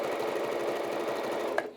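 A domestic sewing machine runs steadily at an even whirring pace for nearly two seconds, close and fairly loud, then stops with a small click.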